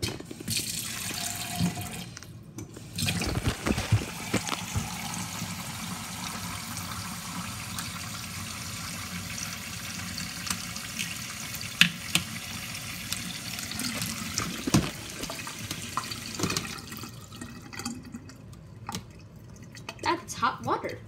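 Water runs steadily from a tap into a sink for most of the stretch, with drips and trickling bursts, fairly close, and faint voices now and then.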